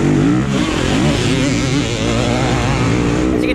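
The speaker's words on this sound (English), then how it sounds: "a true test of how well the stock YZ250F performs in a Harescramble, especially a muddy, gnarly one" A stock Yamaha YZ250F dirt bike revs hard through a muddy, gnarly harescramble race course, its engine loud and close throughout with rising and falling throttle pitch.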